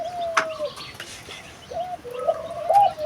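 Dove cooing in drawn-out, steady coos, a few repeated calls over faint outdoor background noise.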